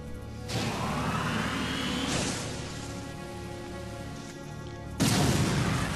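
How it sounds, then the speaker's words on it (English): A deep booming power bomb explosion in Metroid Other M swells with whooshing, rumbling game effects, followed by a second loud blast near the end. "let's use a power bomb"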